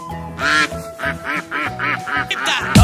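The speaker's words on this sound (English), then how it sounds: "Duck." A cartoon duck in a children's animal-learning animation quacks in a quick series of about six loud, close, nasal quacks, ending with a sharp burst.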